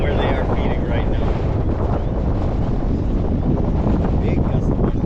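A strong gust of wind roars across the microphone during a fall fishing outing on open water, steady broadband buffeting that holds loud and close for the whole stretch.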